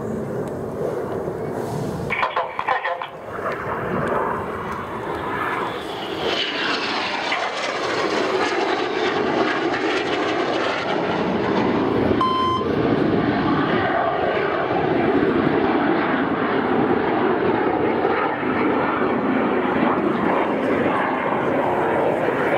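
Aerobatic display jets at the 2014 East Fortune Airshow crossing in opposing 360-degree turns, a loud sustained engine roar that swells and shifts as they pass, with a commentator talking throughout.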